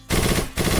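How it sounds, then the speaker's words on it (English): A minigun fires in a video game in two loud, fast rattling bursts separated by a brief gap. "That is a minigun coming in versus an AK."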